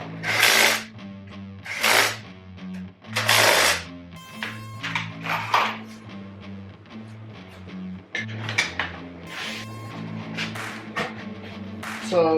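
Ratchet and power tool bursts while the wheels come off a Yamaha Banshee in a garage, several loud whirring and clicking runs over a steady low musical drone, close and repeated.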